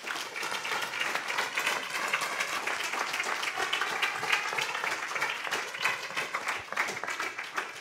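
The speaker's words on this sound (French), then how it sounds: "Je vous invite à les applaudir." An audience at a conference on HIV applauds after personal testimonies, with continuous, fairly dense clapping at a moderate distance that stays even throughout.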